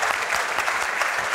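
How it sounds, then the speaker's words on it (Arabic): Studio audience applause on a TV show set, a dense steady patter of many hands clapping close by, filling the whole brief moment without a break. "تصفيق اخر على امونه الجميله."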